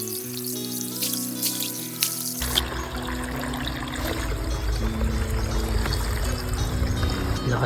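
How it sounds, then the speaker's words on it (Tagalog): Water splashes and pours steadily as it is bailed out of a small streamside bathing pool fed by a strong spring, a continuous close trickling and sloshing that grows denser after the first couple of seconds. "Medyo natagalan nga ako dito sa pagtanggal ng tubig kaya tumulong na rin ako sa pagbawas nito."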